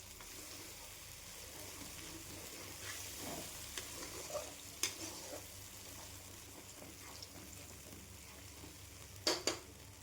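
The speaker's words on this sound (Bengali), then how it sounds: "এই মশলাটা তেলের মধ্যে দিয়ে দেব" Ground spice paste fries in hot oil for a vegetarian mixed-vegetable dish, giving a quiet, steady low sizzle with a few sharp spatters and stirring clinks close by, and no talking.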